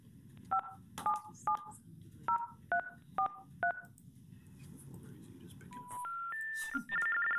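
Dialing tones from a conference phone at a school board meeting: a run of about eight short, evenly spaced keypad beeps, followed by a few longer rising call-progress tones, moderately loud over a low room hum.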